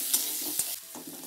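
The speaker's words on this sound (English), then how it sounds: "We have to fry it till golden brown" Onion fries for a dhaba-style egg curry, a close steady sizzle with a few sharp scraping stirs of a spatula over about a second, no voices.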